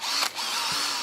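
Whining buzz of a portable hand drill fitted with a diamond stone and used as a dental drill, a sustained close high-pitched spin with a brief dip partway through.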